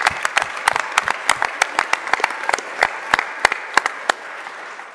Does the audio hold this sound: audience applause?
yes